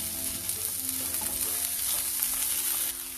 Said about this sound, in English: Saute this till the onions get translucent.